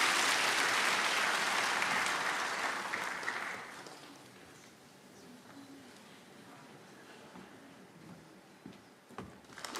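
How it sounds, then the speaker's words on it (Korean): Congregation at a Korean Sunday church service clapping to bless a child after a prayer, a full burst of applause that fades away after a few seconds, leaving a quiet room with faint murmurs and a few late claps. "우리 박수로 이 아이를 축복합니다"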